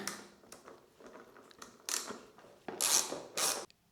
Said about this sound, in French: je vais dévisser celui-là aussi